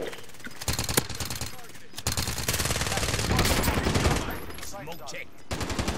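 Rapid machine-gun fire from a tracer-loaded weapon in Call of Duty: Warzone, sharp bursts and long rattling strings, with excited voices talking over the shooting.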